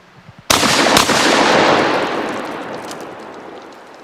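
Two loud, close blasts of double-aught buckshot from a short-barreled Tedna 12-gauge coach gun with no chokes, fired in quick succession about half a second apart, then a long rumbling echo that slowly fades.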